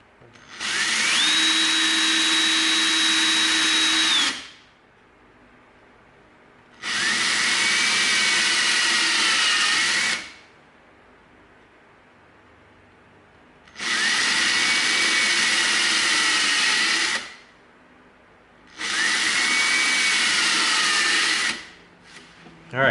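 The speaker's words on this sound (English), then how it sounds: "We've got all 4 of our holes drilled." A power drill bores holes through EVA foam for a prop Klingon knife, four loud sustained whirring bursts of a few seconds each, separated by short pauses.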